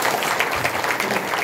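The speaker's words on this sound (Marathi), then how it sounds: "एकदा जोरदार टाळ्या बरं सगळे टाळ" An audience at a kirtan devotional gathering applauds, a dense, loud wash of clapping filling the short moment without pause.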